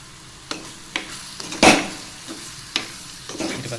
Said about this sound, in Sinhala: මේ වෙලාවේ අර මේකට පොල් කිරි ටික එකතු කර ගන්නවා